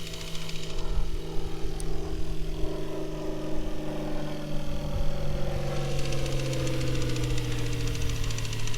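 A P-51 Mustang propeller airplane passes low overhead, its droning, knocking engine loud and steady throughout, with the pitch sliding downward as it moves past.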